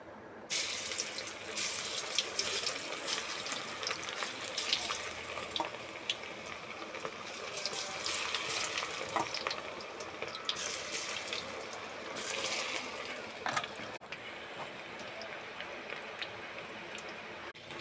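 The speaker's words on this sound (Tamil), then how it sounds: "எண்ணெய் நல்லா காஞ்சிருச்சு காலிஃப்ளவரும் நல்லா ஊறிடுச்சு இப்போ வாங்க போட்டு எடுத்துக்கலாம்" Marinated cauliflower pieces for cauliflower 65 deep-fry in hot oil with a continuous close bubbling hiss that swells and eases over time, with no speech.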